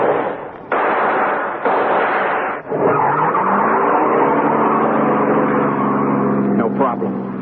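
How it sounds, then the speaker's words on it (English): A getaway car is shoved into gear and speeds off in a radio drama: a loud, close engine revs and climbs steadily in pitch as the car pulls away, with tire noise beneath it. "I shoved that getaway car into gear and took off"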